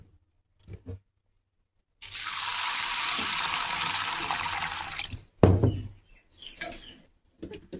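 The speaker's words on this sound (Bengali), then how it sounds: "এই সাবুটাকে আমি প্রথমে খুব ভালোভাবে ধুয়ে নেব জল দিয়ে।" Large-grain sago pearls are washed by hand: water pours steadily into a vessel for about three seconds, followed by brief splashes and sloshing as the pearls are rubbed, with quiet gaps between.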